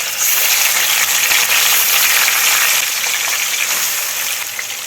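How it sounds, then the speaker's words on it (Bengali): Pieces of katla fish fry in hot oil over a medium-low flame, giving a steady, close, bright sizzle that carries on without a break. "আমি এবার মাছগুলো ভেজে নেব। মিডিয়াম টু লো ফ্লেমে রাখতে হবে।"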